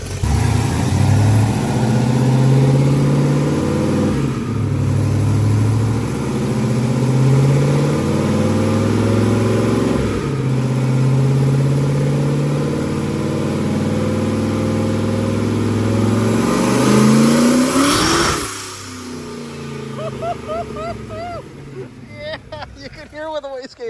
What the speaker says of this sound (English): They're actually filming Kyle in the car right now as we're getting ready to do our first pull